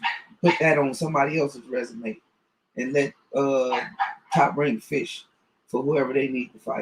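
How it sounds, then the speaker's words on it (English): Dogs bark in the background while someone talks continuously about boxing, the barks faint and partly buried under his voice. "excuse the dogs in the background"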